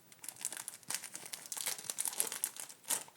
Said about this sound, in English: I'm going to take my scissors. I'm going to cut the top off.